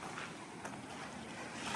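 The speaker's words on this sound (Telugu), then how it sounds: "చిన్నగా వస్తున్నాయి అలలు, అంతే." Small, gentle sea waves wash onto a beach at sunset in the Andaman Islands near Port Blair, a steady soft surf wash with some wind noise, continuous and without any talking.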